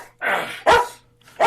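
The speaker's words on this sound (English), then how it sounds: "The dog is just excited in the background" A dog barks excitedly in the background, three sharp barks in quick succession with short gaps between, fairly clear with no talking over them.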